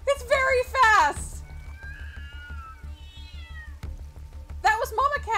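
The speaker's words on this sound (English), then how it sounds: "That was Mama Cat." A cat meows in the Scary Kitty horror video game, with a pair of drawn-out meows near the start and again at the end, set over a low, rhythmic pulsing background.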